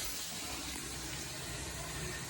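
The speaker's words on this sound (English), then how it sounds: "So when I run the water and it goes down the drain," Tap water runs steadily into a sink and down its drain, a continuous broadband rush with no voices over it.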